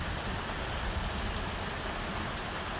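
Steady rain pattering on a gazebo top at a sawmilling site, a dense, even hiss of drops that holds constant throughout with no voices.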